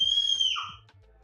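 A child screams in a room, a shrill, high, wavering cry that falls in pitch and then fades, heard alone and close.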